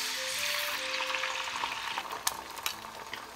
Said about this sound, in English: I'm gonna put the eggs in